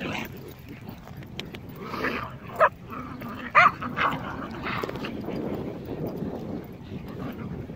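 Several dogs at home yip, whimper and whine together in close, noisy chatter, with two sharper barks bursting out partway through.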